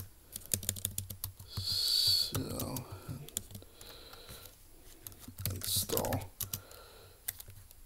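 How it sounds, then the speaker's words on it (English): Fingers type on the small keyboard of a Samsung Chromebook 3 (2016) laptop, a quick irregular run of close, crisp key clicks with brief pauses and a few louder taps. "it's hard typing on a small laptop here"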